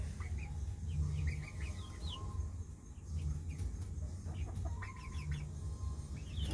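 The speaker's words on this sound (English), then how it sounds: "14 chickens all here. They drinking, they eating." Fourteen chickens, including buff Orpingtons, cluck and chirp in a coop in short scattered calls. Low steady background rumble runs underneath, and no one speaks.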